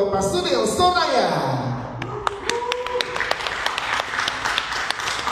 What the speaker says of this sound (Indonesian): Tepuk tangan untuk Bapak Sunil Soraya.